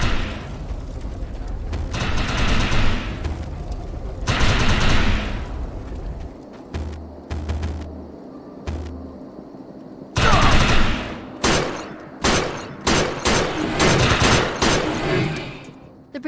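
Rapid automatic gunfire and heavy blasts from the shooter game Defiance, loud and close, coming in long bursts with brief lulls between volleys.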